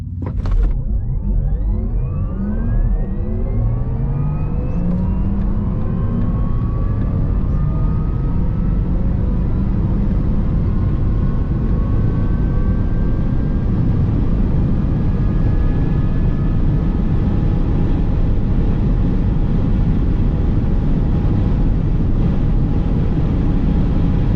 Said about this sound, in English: This is the entire 0 to 250 kilometers run from inside the car.